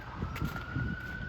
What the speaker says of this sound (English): Ambulances, police.